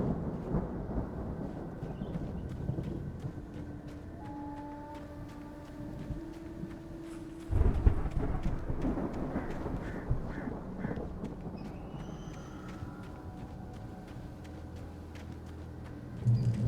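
Stormy weather in the video game Alan Wake: steady wind and rain with a heavy rumble of thunder swelling midway, over faint drifting game music, with no talk.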